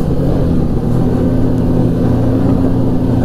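A 2016 Arctic Cat Pantera 3000 snowmobile with a 700cc engine accelerating, its motor a loud, steady close-up drone that holds near full throttle throughout without pause or voices.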